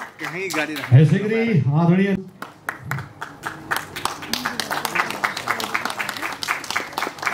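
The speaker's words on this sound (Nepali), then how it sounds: "बजाउँदै जानुहोस् जोरदार ताली" An award ceremony audience claps, starting sparse and building to steady applause after a host speaks over a loud PA in the opening seconds.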